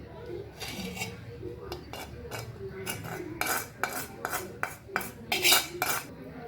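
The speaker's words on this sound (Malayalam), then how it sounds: "നന്നായിട്ടൊന്ന് മിക്സ് ചെയ്ത് കൊടുക്കുക." A spoon scrapes and clinks against a bowl while red chilli chutney is mixed with the oil used to fry the chillies, a series of short metallic strokes that grow louder and quicker toward the end.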